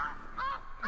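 An Arctic goose honks in the hunting game theHunter, three short, nasal calls in quick succession, faint and a little distant, with no other sounds.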